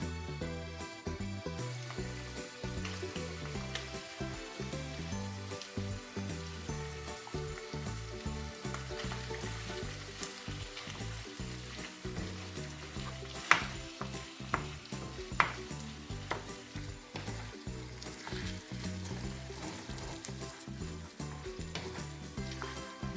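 Minced meat and vegetables fry in a pan with a dense, continuous loud sizzle that runs throughout, broken by a few sharp clinks of a utensil.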